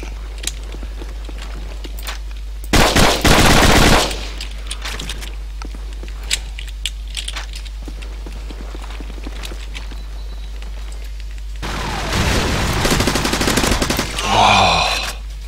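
AK rifle fire in a first-person shooter video game, heard as two loud sustained bursts of automatic shots, one early and one near the end, with quieter game ambience and scattered footstep-like clicks between.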